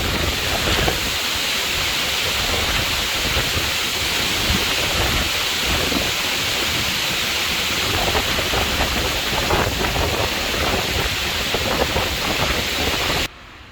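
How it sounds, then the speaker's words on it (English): A tropical storm in Western Visayas drives heavy rain and gusting wind, a steady loud roaring hiss with constant pelting texture that runs unbroken for over thirteen seconds and then drops off at the end. "That storm north of us, it is just pelting us here."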